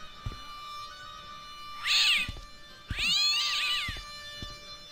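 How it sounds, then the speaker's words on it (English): A cat in the adventure game Broken Sword 1: Shadow of the Templar meows twice in quick succession, with rising and falling wavering cries, near and clear over a quiet hum with faint thumps. "Let me throw the ball at you, stupid cat."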